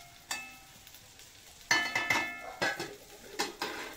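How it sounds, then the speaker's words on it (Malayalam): A spatula stirs thoran, a Kerala stir-fried vegetable dish, in a pan, giving a few sharp scraping clinks of utensil on metal over a faint sizzle, loud and close, with no talking. "നമുക്ക് ഒന്നുകൂടെ ഒന്ന് നന്നായിട്ട് ഇളക്കിയിട്ട് ഒന്നുകൂടെ ഒന്ന് പൊത്തി വെച്ച് കൊടുക്കാം"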